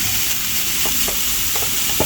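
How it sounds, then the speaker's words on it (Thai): Mushrooms grill in an oiled pan, producing a dense, continuous loud sizzle with a few faint clicks of stirring scattered through it. "แล้วเราก็เอาเห็ดลงมาย่าง ลงในหม้อแล้วก็ปิดฝาไว้"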